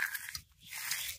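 Crispy fried shredded potato (jhuri aloo bhaja) being bitten, giving two short, close crunching bursts with a brief pause between, with no talking.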